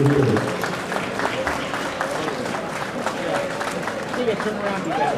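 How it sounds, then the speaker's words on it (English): A crowd claps and cheers at an outdoor barbecue competition, with dense, lively applause under scattered shouts and voices over a steady hubbub. "And a big round of applause for all the family members here."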